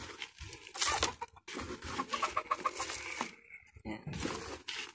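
Chickens cluck outdoors in the afternoon, with repeated close, busy clucks and short calls over a rough background of rustling and ambient noise.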